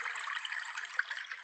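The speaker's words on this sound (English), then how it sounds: "That just sounds like running water." Running water meant as a soup cannon filling a cup with split pea, heard as a steady close trickling pour with no voices.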